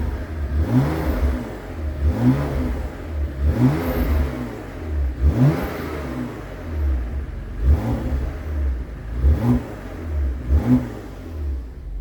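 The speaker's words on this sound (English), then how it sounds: "Here's the exhaust sound." A 2017 Porsche Macan S engine revs repeatedly in short bursts, roughly every second or so, with a deep throaty exhaust rumble between pulses, loud and close.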